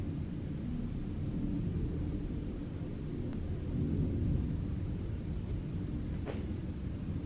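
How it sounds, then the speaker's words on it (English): A steady low rumble fills the whole stretch, like a distant airplane passing overhead, with no talking. "If y'all hear a plane, I'm sorry."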